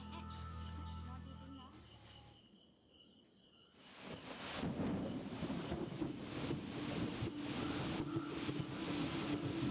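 Steady monsoon rain hisses and rumbles after a brief quieter stretch, with low rolling thunder of a storm over an animal sanctuary; the opening seconds carry tonal background sound.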